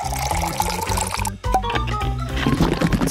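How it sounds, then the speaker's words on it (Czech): Boiling water poured from a kettle over freshly hand-ground coffee, a close, continuous liquid pour that briefly pauses and resumes, with no talking. "A teprve teď zaliju kávu vroucí vodou."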